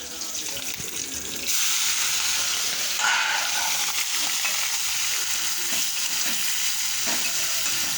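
Prawns tossed into hot oil with nigella seeds and green chillies set off a loud, steady sizzle that jumps up sharply after a quieter start and hisses on continuously in the pan.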